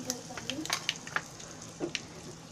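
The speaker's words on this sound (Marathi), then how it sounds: "हे आता फोडणी तयार झाली आहे" Quiet crackling and popping of spices, including asafoetida, tempering in hot oil for green chilli pickle, with scattered sharp spits and small clicks over a soft sizzle.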